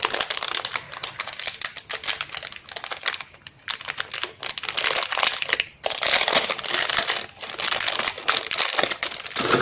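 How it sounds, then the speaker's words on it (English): Washi tape being pulled and pressed along the side of a canvas gives close, crackly crinkling and sticky ripping bursts with brief pauses. "I just need to put some washi tape here on the side also."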